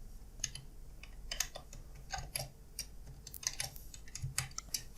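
Fingers tap on a computer keyboard while building a web form, producing crisp, close keystroke clicks in quick irregular bursts with short pauses between them.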